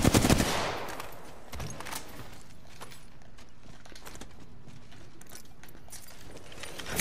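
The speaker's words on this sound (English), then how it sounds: "Just keep shooting, keep shooting." Gunfire in a video game starts with a loud, sharp burst, then fades to fainter scattered shots and mechanical clicks.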